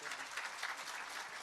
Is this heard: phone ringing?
no